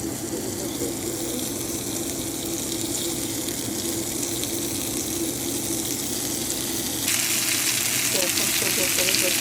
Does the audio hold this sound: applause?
no